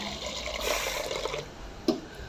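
Water sloshes softly in a container as red lentils are swished and rinsed, with a brief splash near the end.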